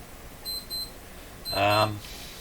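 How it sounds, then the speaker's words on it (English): An electronic beeper gives two short high-pitched beeps, followed by a longer, louder tone, close by during work on a Crosley Moffat G-165 five-tube radio. "My beeper will stop in a moment here."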